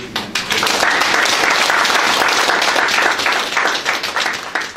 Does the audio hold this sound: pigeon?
no